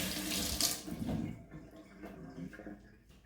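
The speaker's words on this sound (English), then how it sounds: "now after washing our rhubarb" Rhubarb stems washed under running tap water at a sink: close, splashing water that is loudest at first, then softer trickling and dripping as the flow eases.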